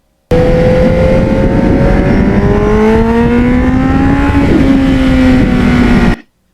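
A restored 1989 Kawasaki Ninja 750R motorcycle being ridden, its engine droning loud and close for about six seconds with a steady, slowly shifting pitch as it climbs and eases, then cutting off abruptly.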